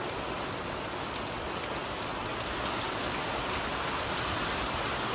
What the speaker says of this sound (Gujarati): આ વરસાદનો સાઉન્ડ જ એટલો મસ્ત હોય ને